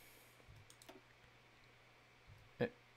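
A few sparse, quiet clicks from keys on a new computer keyboard, spread over a few seconds, ending with one sharper, louder tap.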